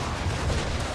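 Ship cannons fire in a naval battle in the video game Assassin's Creed 3, a dense, loud rumbling barrage of booms that fills the whole second with no break.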